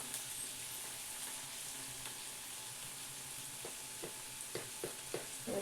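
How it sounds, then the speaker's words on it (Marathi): Onion frying in well-heated oil in a pan gives a constant close hiss and sizzle, with a few soft stirring knocks near the end. "तेल चांगलं तापलेलं असलं की कांदा शिजायला काय वेळ नाही लागत"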